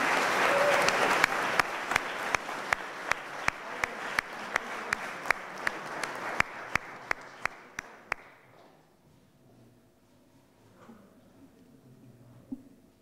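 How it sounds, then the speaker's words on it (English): Graduation ceremony audience applause at a college conferring, a broad steady round of clapping with one close, sharp clapper standing out in a regular beat, fading out after about eight seconds into quiet hall ambience. "Special round of applause,"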